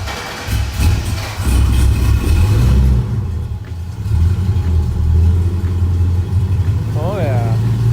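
A 1969 Chevelle's engine fires up for the first time through Black Widow exhausts, with a loud, deep rumbling idle and rising revs close by while a person talks over it.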